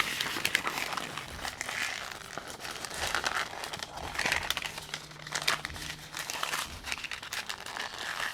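Paper crinkles and rustles steadily as it is folded around a smoked brisket, with crisp crackling bursts continuing throughout at close range and no talking.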